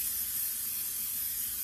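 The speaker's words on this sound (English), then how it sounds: "I'm just going to spray that nicely around the sides and on the bottom" Pam cooking spray sprayed into a cooking pot in place of butter, a steady close hiss running unbroken for about a second and a half with no talk.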